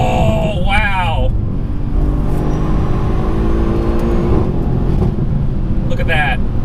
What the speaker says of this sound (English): You can be full throttle through them, and it's just putting power down to the rear wheels, no problem.